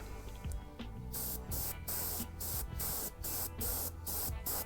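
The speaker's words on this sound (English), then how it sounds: "let's go ahead and spray our mini" Army Painter paint airbrushed onto a Battletech miniature in thin passes, with a close hiss that begins after a second and comes in a rapid run of short bursts with brief gaps.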